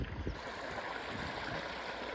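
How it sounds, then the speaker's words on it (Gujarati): Irrigation water flows into a cumin field, a steady, close burbling rush of running water that continues evenly throughout. "આ પાણી આમ જાય જો છે અહીંયા પણ જાય છે"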